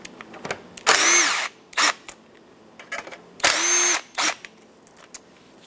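A power tool loosens 11mm clamp nuts on the turbo inlet of a 2008-2010 Ford F-450, whirring in two long, loud bursts with several short blips between them, close up.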